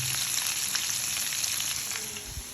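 Homemade chicken pieces frying in hot oil, a dense bright continuous sizzle held close and even throughout, with a faint low knock near the end.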